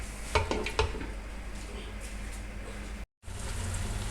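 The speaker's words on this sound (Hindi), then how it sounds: "तो चलिए भूनना स्टार्ट करते हैं" Beef paya being fried and stirred in a pot, a steady sizzle running throughout with a couple of sharp utensil scrapes near the start and a brief dropout before the frying noise returns.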